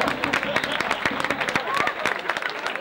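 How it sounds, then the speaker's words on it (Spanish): Street carnival crowd applauds a chirigota performance, a dense burst of clapping with some crowd chatter mixed in, fairly close and lively. "Fuerte aplauso para ella."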